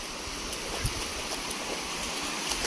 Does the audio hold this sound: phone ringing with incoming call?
no